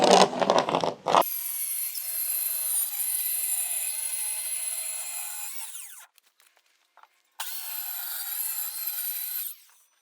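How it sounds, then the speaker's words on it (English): A power saw cuts a triangle from a scrap wood piece while framing a 10x12 shed. A whining blade rips through wood for about five seconds, stops briefly, then bites in again for a second, shorter cut, with no voices. "I'm going to cut this triangle out of the scrap piece we were using to make the headers"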